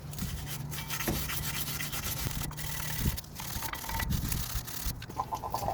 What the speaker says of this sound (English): Just use a steel brush.